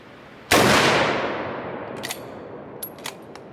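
A single loud, close gunshot from a No. 5 Mk I Jungle Carbine rifle fired outdoors, its sharp crack decaying over about a second, followed by a few faint metallic clinks.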